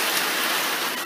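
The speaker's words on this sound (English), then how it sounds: "The raindrops keep falling on my head." Rain falls steadily as an even, close, bright hiss without any talk over it.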